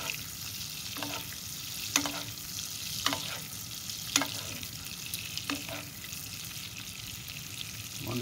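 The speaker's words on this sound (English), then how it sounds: "So now again the same, basting the fish." Fish basted with fresh thyme sizzles steadily in a pan, with a low continuous fry and periodic clinks and splashes as a spoon ladles hot fat over it, moderately quiet and close.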